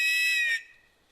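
A loud, shrill whistle blast held for about half a second, then cut off and fading out, sounded as a call signal during search and rescue training outdoors.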